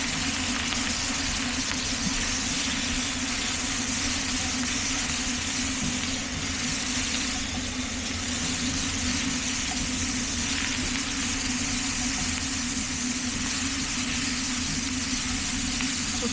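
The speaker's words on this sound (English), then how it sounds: "Okay, it's boiling." A pot of water boils on the stove, giving a steady, close, noisy bubbling rumble without pause and with no talk.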